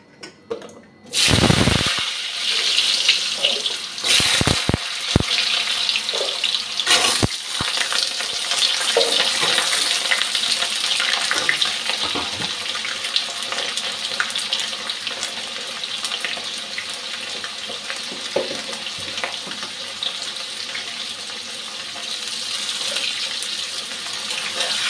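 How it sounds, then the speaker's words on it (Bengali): Potatoes fry in hot oil with a steady, dense crackle that carries on without a break after a few loud knocks at the start, with some clinks and splashes of stirring early on. "আলুটা আগে ভেজে নিচ্ছি।"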